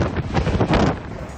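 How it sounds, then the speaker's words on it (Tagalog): Hurricane Milton battering Florida homes with heavy rain and punching gusts, heard as a loud, continuous roar of wind buffeting the microphone, with the rain lost in the rush. "matindi ang hagupit ng ulan sa mga bahay, gaya sa Daytona Beach. Tila nanununtok din ang hangin."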